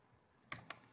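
Two crisp clicks from a computer keyboard, quick keystrokes close by against a faint, quiet room background.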